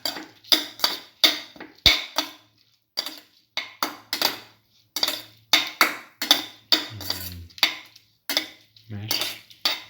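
Potato omelette ingredients are mixed and mashed in a bowl, producing a rapid, regular series of sharp utensil clacks and scrapes against the bowl, close and fairly loud, with brief pauses between strokes and no talking.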